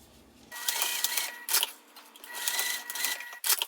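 A sewing machine stitches a sander sling, starting abruptly into a loud, buzzing run with brief pauses and restarts, close and alone.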